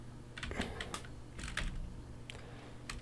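Keys clatter on a computer keyboard in a computer practical class, with irregular clusters of quick taps and short gaps, close and fairly quiet against low background noise.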